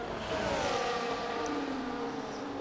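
Formula 1 race cars in the F1 24 game at the Australia circuit, a Ferrari entering the pit lane: a steady, loud engine whine with a slowly falling pitch that continues throughout, with no voices.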